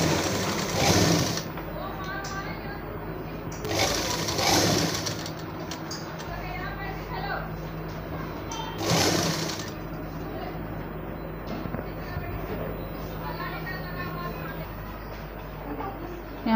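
Sewing machine stitching cloth for a baby boy's kameez, a steady close mechanical whir running throughout with louder surges, while a person talks over it.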